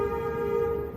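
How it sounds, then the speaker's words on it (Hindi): A vehicle horn sounds on an Indian road outside, one sustained, steady honk held for the whole second over low traffic rumble, fairly loud and with no talking. "रोड खाली भी है तो भी हॉर्न बजाए रहो, बजाए रहो।"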